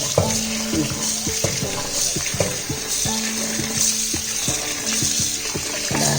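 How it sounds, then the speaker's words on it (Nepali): Tap water splashes and hisses into a hot pan while making homemade ghee, sizzling steadily while utensils clink and scrape in irregular knocks close by. "धाराबाटै खालिदिन्छु है त म पानी"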